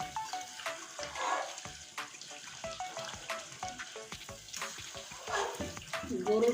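Milk cream simmering in a pan on the stove while ghee separates from it, a steady frying sizzle with bubbly crackle and occasional stirring scrapes, close and continuous throughout.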